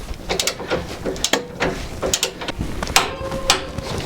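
A ratchet wrench clicks and clanks in short, uneven strokes while tightening a front suspension control arm bolt to 95 Nm on a jacked-up car, close and fairly loud with metallic knocks.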